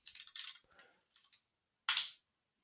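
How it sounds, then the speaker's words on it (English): Quiet keystrokes on a computer keyboard while SQL code is written in Python, a brisk run of soft clicks followed by a pause and one sharper tap. "we can carry on typing"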